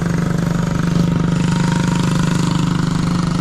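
A small motorized bike engine drones steadily at close range, a buzzy, rapid putter holding a constant pitch, like a motorcycle or lawnmower.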